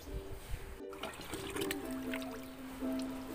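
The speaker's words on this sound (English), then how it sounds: "I'm gonna put 3 liters of water." Water pours into a bucket in a soft, trickling splash that rises and falls unevenly, close and moderately quiet.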